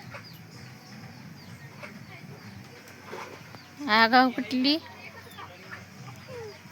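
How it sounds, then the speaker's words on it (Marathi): Hens cluck in a short, loud cluster of calls midway through, close to the listener, while people talk quietly around them in a farmyard setting. "टाक कोंबडीला टाक."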